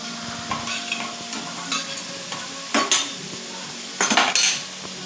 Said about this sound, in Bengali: আমি এবার আস্তে আস্তে এটা আমি নাড়তে থাকবো